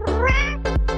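A cat meows three times in quick succession, each call loud and close with a rising-falling whine, the first longest and the next two shorter.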